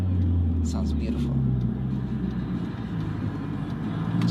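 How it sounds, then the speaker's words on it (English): A car engine rumbles low and steady from inside the cabin, a continuous deep drone with a voice speaking briefly over it near the start. "Oh my god, the car sounds so sexy."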